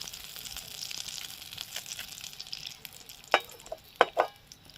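Oil poured into a pan where shrimp are frying, a steady soft sizzle with a few sharper crackles and spits toward the end, close by and with no talking.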